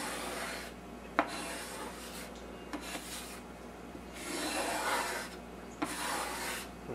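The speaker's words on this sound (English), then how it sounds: "as I pick up the excess on the edge of the card, I kind of smear it in and then scrape again" A card scrapes and smears grain filler into open wood pores, giving quiet, broad rasping strokes in repeated passes with brief sharper clicks as the edge catches, close and alone.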